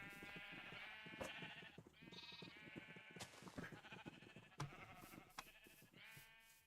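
Several sheep on a Minecraft farm bleating repeatedly in overlapping wavering calls, close and clear, one after another with short gaps.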